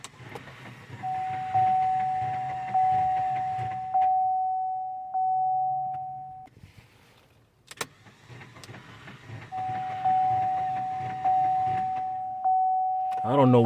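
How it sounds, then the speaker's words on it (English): A Cadillac engine being cranked over during reassembly with unpumped timing chain tensioners, a loud starter whir with rattly mechanical noise and a steady warning chime, stopping, then cranking again; a person speaks briefly in between. "So I think that noise was just because the timing chain tensioners hadn't pumped up yet."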